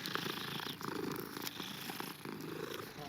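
A cat in Hogwarts Legacy purrs close and clear in a continuous rhythmic rumble, cycling with each breath for several seconds.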